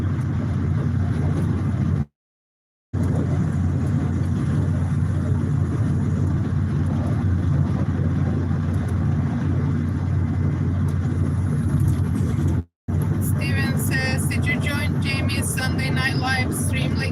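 Car cruising along a highway in Mexico, steady broadband road and engine rumble with wind noise throughout, broken by two brief dropouts.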